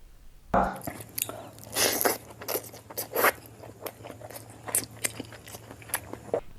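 Someone eats a large heap of eggs, with close, wet chewing and biting sounds, repeated crunchy and smacking bursts over a low steady hum.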